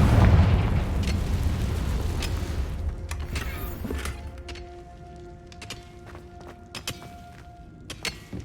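A Confringo explosive spell blasts in the Hogwarts Legacy video game, starting with a loud, rumbling boom that slowly fades. Scattered sharp crackles and pops follow over a lingering low rumble.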